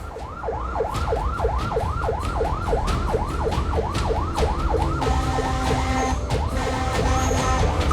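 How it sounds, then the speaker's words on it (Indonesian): A fire truck's siren wails in rapid repeating rises and falls, loud and continuous over heavy engine rumble, with a horn blaring in the latter part as it clears traffic on the road. "Sirine kencang dan klakson terus dibunyikan agar pengendara lain berkenan memberi jalan"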